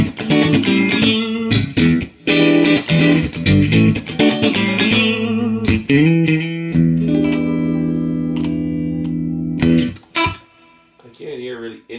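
Electric guitar played through a 1978 Fender Twin Reverb ultralinear tube amplifier with reverb on 3 and slight distortion, strummed chords and picked notes, then a sustained ringing chord fading out.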